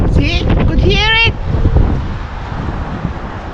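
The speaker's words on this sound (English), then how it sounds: "The wind." Strong wind buffets the microphone outdoors on a cold, snowy winter day in Chicago, a steady broadband rumble that persists throughout, with a person speaking over it at the start.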